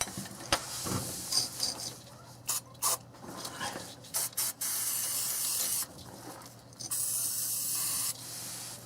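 Lubricant sprayed onto a receiver hitch bolt on a Dodge, several short close hissing bursts followed by two longer sustained sprays, with brief pauses between them.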